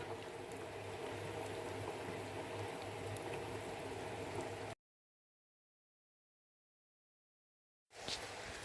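Water gushing from a partly cleaned-out pipe outdoors, a steady rushing flow for several seconds that cuts out abruptly to silence before resuming briefly.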